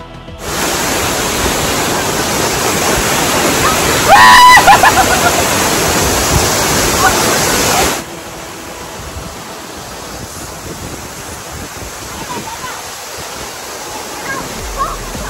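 Rushing water at the Kusrampalli waterfall in Karnataka roars loudly and steadily, then suddenly drops to a softer, more distant wash for the rest of the stretch.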